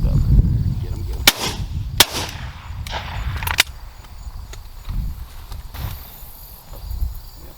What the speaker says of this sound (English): Nice shot, John.